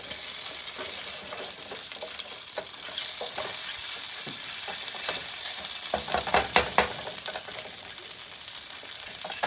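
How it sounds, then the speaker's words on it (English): Curry paste fries and is mushed around in hot oil for a keto chicken curry, a steady close sizzle under scraping stirring strokes that grow busier toward the end, with no talk. "I'm just going to kind of squeeze that out into the hot oil. We want to kind of mush it around and cook it up a little bit."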